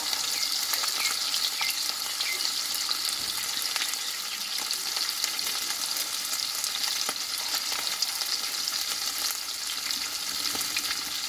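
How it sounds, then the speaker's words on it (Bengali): Hilsa fish pieces fry in hot oil with a dense, continuous crackling sizzle, close and steady for the whole stretch, with no voices. "এই ইলিশ মাছ তো একটু হালকা করে ভাজলে বন্ধুরা হয়ে যাবে"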